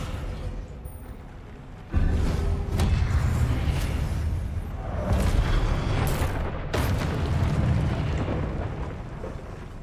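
A Descendo spell cast in the Hogwarts Legacy video game, a heavy booming impact that sets off a loud, sustained rumbling roar with crashing bursts continuing for several seconds.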